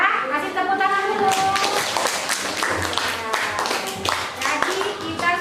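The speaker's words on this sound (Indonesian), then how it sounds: "Kasih tepuk tangan dulu." A classroom of students clapping for one another at a teacher's request, a quick burst of many small hands close by with sharp slaps, followed by a livelier stretch of rhythmic clapping as the applause continues.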